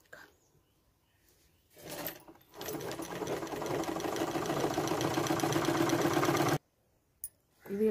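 A sewing machine runs in one steady burst of several seconds as it stitches blouse pieces together at the waist seam, with quiet pauses before and after.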